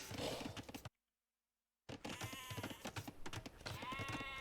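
Sheep in Age of Empires bleat in short, wavering bursts, broken by a sudden second of total silence before more bleats follow close and clear.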